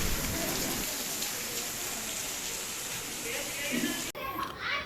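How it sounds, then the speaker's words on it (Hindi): Heavy, continuous rain pouring down in Delhi, a dense steady hiss of drops on surfaces with faint children's voices and talk in the background, briefly dipping near the end. "देख सकते हैं कि कैसे एकदम बारिश, घनघोर बारिश है।"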